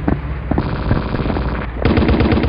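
Loud, dense machine gun fire in the Battlefield 1942 video game, rapid continuous bursts overlapping with heavier booms, close and dominant throughout.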